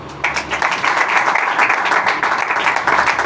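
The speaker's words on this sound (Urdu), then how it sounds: "شاباش اسٹیفن کے لیے تالیاں بجائیں" A church congregation breaks into loud applause for Stephen at a Sunday sermon, with dense, even clapping that starts abruptly and carries on steadily.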